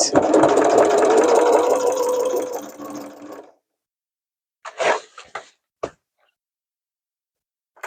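A sewing machine set to a 3.5 stitch length runs steadily for about three seconds while stitching a vinyl tote bag, then stops, leaving a few short handling knocks and quiet gaps.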